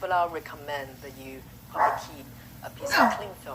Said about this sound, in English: Say hello, creature. That's my dog.